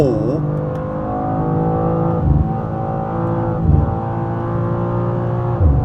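A BMW M2 (G87) engine, 460 horsepower, drones and revs on a track, rising and falling in pitch through the gears, loud and continuous with brief lifts between shifts.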